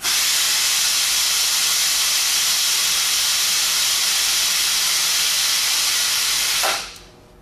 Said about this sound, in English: So we pull down the lever.